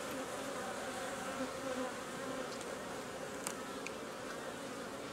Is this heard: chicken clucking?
no